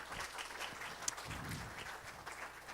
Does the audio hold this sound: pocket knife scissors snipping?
no